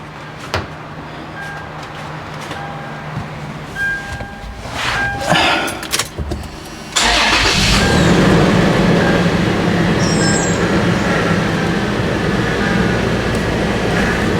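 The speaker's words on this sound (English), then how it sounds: "let me turn on my engine" A 5th-generation Toyota 4Runner engine starts up after some faint clicks and handling sounds, then runs at a loud, steady idle without pause.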